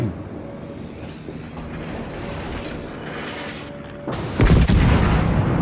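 Battleship gunfire in World of Warships, with the Japanese battleship Mutsu facing an Arizona and a Hood. A low rumbling engine hum gives way near the end to a heavy, booming salvo.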